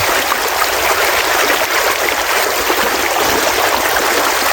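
Water pouring steadily from a tubewell into a farm field, a loud continuous rushing and splashing flow with no voices.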